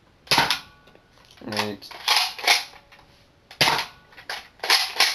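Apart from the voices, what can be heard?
Buzz Bee Jaguar toy blaster firing foam darts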